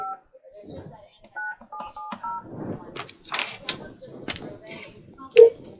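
Touch-tone telephone keypad dialing out a call, a quick run of distinct paired beeps, followed by a ringing line and a near voice-like tone, clear and close.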